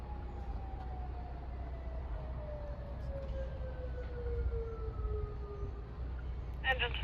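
A Distance Modulator 3012 fire alarm siren in Rochester, Pennsylvania wails far off, its tone sliding slowly downward over a low background rumble. A brief burst of noise comes at the end.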